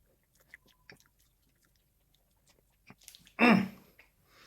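A bite of Farmhouse milk-butter almond mochi cake is chewed, one short, close, moist burst of chewing after a near-silent stretch with faint small clicks.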